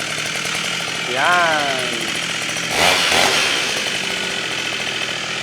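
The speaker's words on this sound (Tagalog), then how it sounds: "Ito naman po yung grass cutter na may gulong." A wheeled trolley-style grass cutter running during a test, giving a steady, loud small-engine drone that swells briefly twice, with someone speaking over it.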